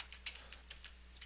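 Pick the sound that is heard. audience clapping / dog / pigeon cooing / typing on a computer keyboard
typing on a computer keyboard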